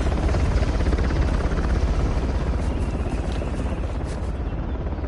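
Helicopter rotor hovering overhead in the Uncharted video game, a loud steady thudding drone that fills the whole stretch without letting up.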